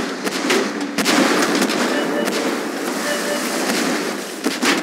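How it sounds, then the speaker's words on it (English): Rapid gunfire and explosive blasts from the Tank Force tank combat video game, loud and continuous with sharp cracks scattered throughout, layered over a dense battle din. "We are under fire!"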